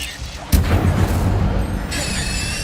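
Incendio fire spell cast in Hogwarts Legacy, a single loud boom-like burst of magical fire that erupts and then roars steadily, with a brighter shimmering layer joining near the end.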